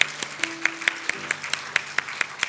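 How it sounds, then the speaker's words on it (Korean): A standing church congregation at a Christmas Sunday service claps in welcome, a steady run of sharp, evenly spaced hand claps over a faint sustained tone, with no talking. "우리 감사의 마음을 담아서 박수로 환영하도록 하겠습니다."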